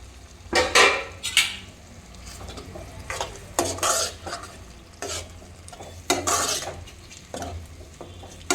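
Onion drops into a hot spice tempering in a pan with a sizzle, followed by repeated scraping and stirring strokes against the metal, loud bursts separated by quieter frying.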